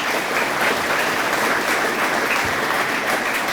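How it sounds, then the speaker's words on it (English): Sustained applause from an audience at a Friends of Tourism event in Granbury, a steady even clapping that fills the room throughout without talk. "So let's give them a round of applause."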